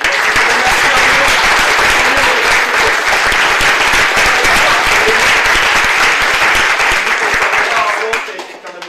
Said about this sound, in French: Je voudrais quand même qu'on applaudisse encore aussi